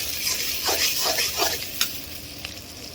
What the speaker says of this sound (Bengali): পেঁয়াজটাকে ভেজে নিই।